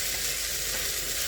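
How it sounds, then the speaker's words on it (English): Potatoes and onions fry in a pan for vegetable soup, giving a steady, even sizzle that fills the whole short moment without a break. "I'm going to let these potatoes and onions cook a little bit. Let them fry up a little bit."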